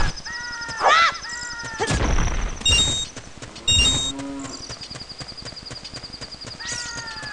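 Cows in a Legend of Zelda video game moo in several short bursts amid game chimes, clip-clop hoofbeats and other synthesized effects, with no talking.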